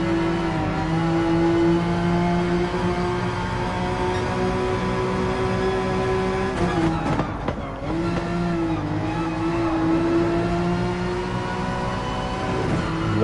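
Peugeot Gran Turismo concept car racing in the Gran Turismo video game, the engine holding a loud, steady high-pitched drone with a brief dip and recovery midway, like a shift or lift-off, and no talk.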